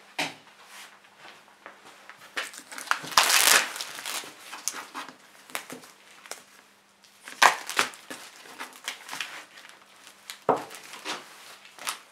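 Plastic wrapping is pulled and torn off a wooden plank nearby in irregular crinkling bursts, with sharp rustles and a few louder rips between quieter pauses.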